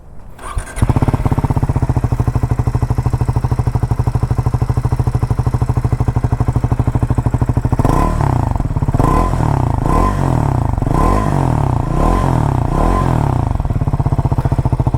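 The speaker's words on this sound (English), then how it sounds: "let's also hear out the exhaust note. This is one of the great sounding exhaust note in the 400cc category with the dual out exhaust" Triumph Tracker 400 motorcycle with a dual outlet exhaust starts up and idles with a steady thumping note, then revs repeatedly in about six short blips, close and loud.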